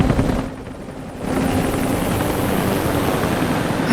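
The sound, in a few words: helicopter in Rise of the Tomb Raider video game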